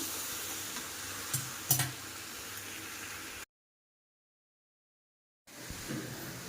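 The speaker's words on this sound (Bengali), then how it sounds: "খুব ভালোভাবে এটাকে আমি কষিয়ে নেব আর ভাজা করে রাখা আলুগুলোকেও দিয়ে দিয়েছি" Mutton and fried potatoes sizzling as they are stir-fried in a pan, a steady close hiss with a couple of scraping stirs, cut off by a stretch of silence before the sizzle resumes, with no talk.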